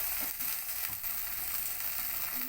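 Biryani masala with rose water and a splash of water being fried and stirred in a pan for an egg biryani, a close, quiet sizzle with soft scraping and clicking from the spoon throughout.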